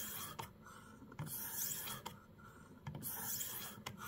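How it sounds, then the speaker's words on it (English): Steady back-and-forth rasping of a Xarilk portable sharpener rubbing on a sharpening stone, close and even, in long strokes about a second apart, with no talk. "trying to hold the stone, move the sharpener"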